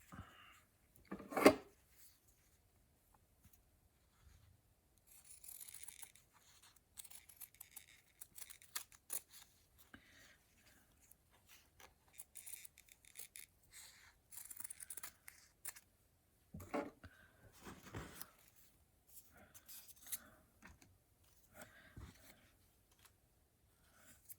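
Scissors cut out a pattern piece for a flower pot, with faint, scattered snips and paper rustles, close and quiet, in irregular clusters separated by near-silent gaps.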